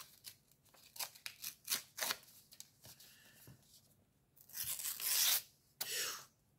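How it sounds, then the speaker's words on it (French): Paper or similar material being torn apart by hand, heard as a series of short crisp rips and crinkles that build to two longer, louder tearing bursts near the end, close up with no talking. "Je vais essayer de le déchirer là."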